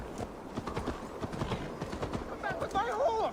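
In a video game, rapid hoofbeats clatter steadily in a quick gallop rhythm, with a horse's whinny rising near the end.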